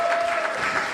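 A church congregation at a family service applauds a new youth pastor, a short burst of dense, steady clapping that fills the room.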